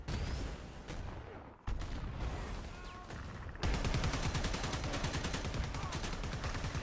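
Sustained video game gunfire, rapid automatic bursts that break off briefly and then resume as a dense, loud, steady rattle through the latter half.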